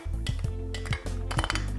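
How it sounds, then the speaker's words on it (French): Crushed okra is tipped into a metal saucepan with clanks and scrapes of a utensil against the pot, several knocks in quick succession. "On va maintenant mettre nos gombos écrasés dans la casserole."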